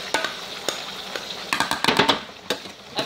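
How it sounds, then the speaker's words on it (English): Vegetables and spinach with onion and tomato sauté in a pan, a light sizzle broken by sharp scraping and clinking spatula strokes in an uneven burst, nearby, without talking. "everything's sauteing nicely here."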